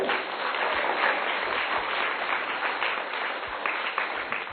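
Parish gathering applauding the welcomed vicar, a steady crowd of clapping hands sustained at even strength through the whole stretch, moderately near and alone without talk.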